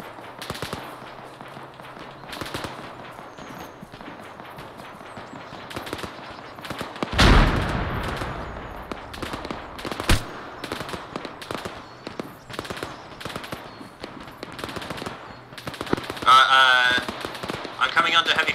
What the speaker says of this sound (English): I'm coming under heavy fire at my current location.